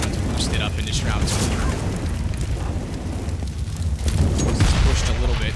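A grenade bursts during a Counter-Strike match on the Cache map at a LAN final, its booms and crackle buried in dense game noise while a caster talks excitedly over it.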